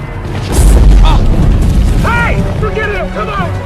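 A deep, rumbling explosion of the moon bursts out loud and near, rolling on for a few seconds while a narrator speaks over the fading boom.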